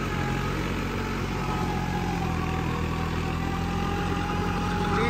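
A modified tractor fitted with an intercooler and upgraded pump and cam, its engine running with a steady close, loud low rumble and no talking.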